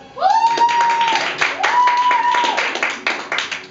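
An audience claps steadily in a dense, continuous patter of many hands, with a sustained tonal hum sliding up and holding twice beneath the clapping.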